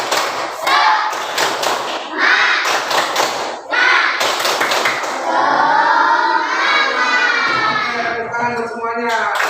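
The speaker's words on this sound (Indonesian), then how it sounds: "1, 2, 3, tepuk semangat." Classroom of children doing a rhythmic spirit clap, loud bursts of hand claps and thumps in a patterned beat, followed by kids' voices shouting and chanting together close by.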